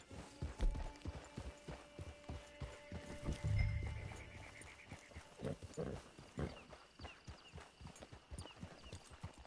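Horse hooves clip-clopping in Red Dead Redemption 2, a run of close, distinct hoof thuds with a snort and whinny partway through, all quiet and near.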